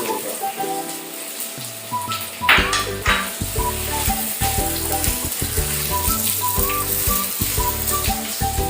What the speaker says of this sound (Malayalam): ഫ്രൈ ചെയ്യാനുള്ള നെയ്യ് ഒഴിച്ചു കൊടുക്കാം. തേങ്ങാക്കൊത്ത് ഇട്ട് കൊടുക്കാം.